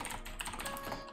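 Rapid keystrokes on a computer keyboard as code is typed into an editor, with a steady run of close, light clicks and no talk.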